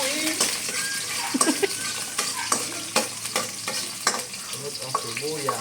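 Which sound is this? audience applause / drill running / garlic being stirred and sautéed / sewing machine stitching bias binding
garlic being stirred and sautéed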